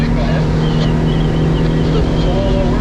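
A 2025 Duckworth 22 Navigator motorboat cruising at 31 mph and 3,700 RPM gives a loud, steady engine drone mixed with rushing water and wind that stays constant throughout.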